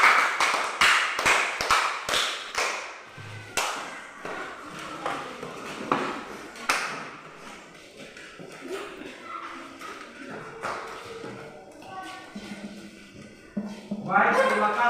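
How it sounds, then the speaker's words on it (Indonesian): A classroom of children breaks into sharp, rhythmic clapping, loud and close for a few seconds, then it fades into a teacher talking and scattered classroom sounds. "Tepuk tangan."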